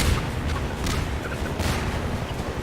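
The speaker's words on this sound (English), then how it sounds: "I just need to avoid the first couple of explosions." In Half-Life 2, a helicopter attack sets off explosions: dense, rumbling blasts with heavier booms rising out of continuous noise.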